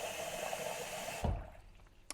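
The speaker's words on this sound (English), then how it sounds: "So just put about double amount of water in, because you are going to get some evaporation." Water pours steadily into a pan of dried beans for about a second, ending in a brief splashing gush, quiet and close, followed by near silence and a faint knock.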